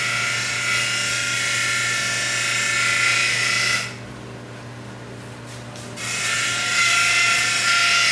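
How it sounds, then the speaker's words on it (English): A wood-turning chisel is sharpened on a motorised grinder in a woodworking shop. It makes a steady, loud, high whine that drops to a quieter hum for about two seconds midway, then resumes. "I'm going to sharpen his chisel for him."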